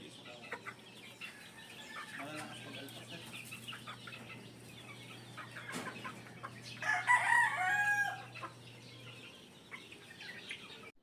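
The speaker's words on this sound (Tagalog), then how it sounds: "21 nga lahat ang inalpasan naming mga manok, kaya ayan, magulo na naman ulit dito sa likod ng bahay namin" Chickens and cockerels in a yard behind a house, clucking and chirping steadily with one cockerel crowing loudly midway, set against a faint continuous background hum.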